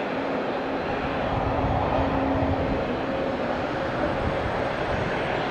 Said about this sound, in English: This is takeoff.